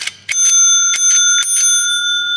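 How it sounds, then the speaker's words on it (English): The bell on a 1961 Gottlieb Corral pinball machine rings loudly in several quick, bright strikes, each leaving a sustained metallic ring, heard up close and alone. "I've already re-enabled the bell."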